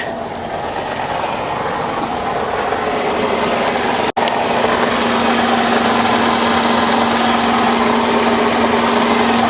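A Lincoln MKX engine runs steadily with a loud, constant droning hum and a harsh noise from near the transmission, close up, broken only by a brief dropout midway; no talking.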